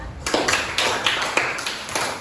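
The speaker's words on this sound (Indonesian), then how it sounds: "Silakan tepuk tangan untuk temannya." A small group in a classroom claps for a classmate, a short burst of close, fairly quiet, loosely rhythmic handclaps.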